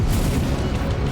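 A wave cannon weapon fires in the mech game M.A.S.S. Builder, a single deep, rumbling boom that swells and sustains heavily through the short moment, loud and close with no voices.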